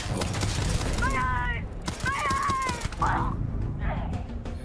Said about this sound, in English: Start fucking shooting at me.